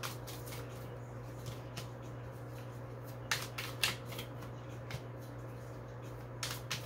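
Tarot cards are shuffled and drawn in short, soft riffles and flicks, several brief bursts spaced irregularly over a quiet background hum; no one speaks.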